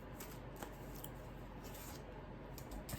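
Playing cards shuffled by hand during a tarot-style reading, a short riffling burst of papery flutter heard close and quiet, with no talk.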